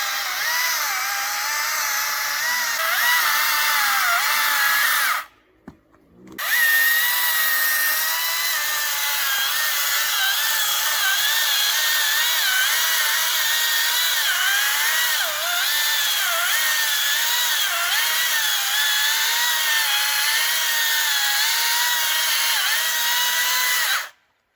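A small battery arborist chainsaw cuts into a tree with a loud, close, continuous high-pitched whine. It stops for about a second early on and then runs steadily again, wavering slightly in pitch as it bites.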